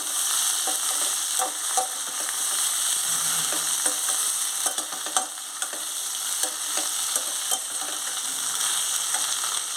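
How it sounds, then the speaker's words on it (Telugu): Taro pieces fry loudly in a pan of hot oil, a dense bright sizzle punctuated by repeated clinks and scrapes of a ladle stirring from the bottom. "ఇప్పుడు చామదుంప ముక్కలు వేసేసుకోవాలి ఇప్పుడు ఒకసారి బాగా కలుపుకోవాలి కింద నుంచి"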